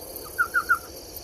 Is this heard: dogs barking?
no